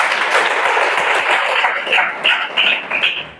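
Students in a classroom break into a dense burst of clapping, loud and close, rising and thinning over a few seconds with no clear voices over it.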